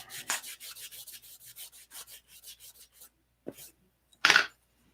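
Sanding a primed scale model by hand: a quick run of rhythmic close rubbing strokes, then a pause, a single scrape and a final louder gritty burst.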